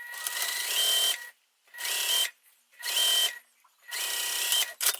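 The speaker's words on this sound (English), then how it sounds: "I put the two pieces right sides together, and I'm just going to sew along the top" A sewing machine stitches two fabric pieces together along the top edge, running in four bursts of whirring motor sound separated by short pauses, close and clear with no talking.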